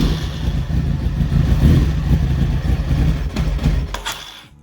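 A Honda CBR900 streetfighter motorcycle engine turns over and runs roughly with loud, uneven revving up close, then sputters and cuts out near the end.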